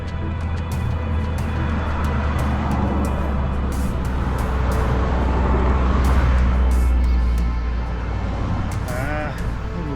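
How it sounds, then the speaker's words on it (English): A car passes in the adjacent right lane on a road during a Cascade Loop bicycle ride, a steady broad rush of tire and engine noise with strong wind buffeting that swells around the middle and eases off. "we've got a car in the right lane"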